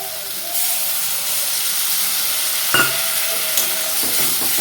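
Turmeric and chilli spice paste thinned with water frying in a pan before snails and potatoes go in, a constant bright hiss with a couple of spoon scrapes and knocks breaking through.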